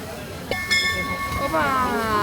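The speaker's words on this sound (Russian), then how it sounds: "Ладно, уже поезд приехал." A train pulls in close by at Iguazu Falls, with a rumbling rail noise, a brief high whistle-like tone and rising mechanical whine.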